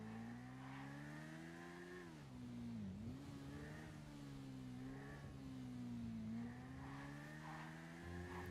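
A video game car engine revs and drones continuously, its pitch sliding up and down through gear changes, fairly steady and alone with no voices.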